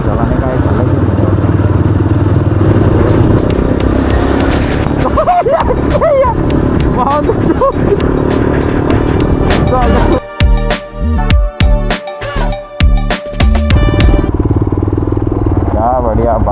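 Motorcycles ride on a rainy road in Dang, Gujarat, their engines droning under heavy wind rush, with rattling and clatter later as people talk over the noise.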